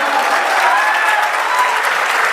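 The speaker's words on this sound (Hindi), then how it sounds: "एक बार सारे मिलके इसके लिए जोरदार तालियां बजा दो।" Loud, dense audience applause fills a college hall at a Hindi humorous poetry recital, steady clapping from a large crowd heard up close with no pause.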